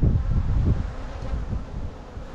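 Honey bees buzzing around beehives in a nuc yard, a dense low continuous drone with some outdoor wind rumble, steady and fairly loud with no talk.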